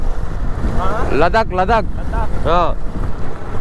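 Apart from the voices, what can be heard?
strong headwind blowing into the microphone while riding a motorbike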